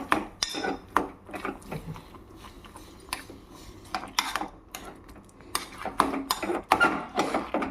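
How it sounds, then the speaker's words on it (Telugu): A spoon scrapes and clinks against a pan as sweet potato filling with melted jaggery is stirred for puran poli, in repeated uneven strokes that sound close and moderately loud, with no talking. "వేసుకున్నాక బాగా తిప్పుకోవాలి."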